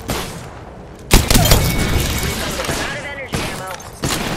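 Loud gunfire in Apex Legends at maximum settings: sharp close bursts of automatic shots, a heavy volley around the middle and further cracks near the end, over dense combat noise, with voices speaking in the background.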